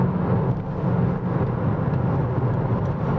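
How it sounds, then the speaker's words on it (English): A Ford Fiesta MK6 ST150 drones steadily from inside the cabin while driving, a loud constant low engine and road hum with no breaks. "this noisy car drones quite a bit"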